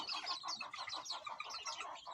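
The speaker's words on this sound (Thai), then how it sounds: "อันนี้เป็นลูกไก่ไก่แจ้นะครับ เป็นลูกไก่แจ้" A bantam chick about one month old chirps rapidly and continuously, a stream of high, thin peeps with steady rhythm, close and fairly loud, with no talking.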